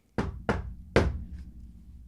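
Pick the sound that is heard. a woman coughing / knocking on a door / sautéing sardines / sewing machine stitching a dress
knocking on a door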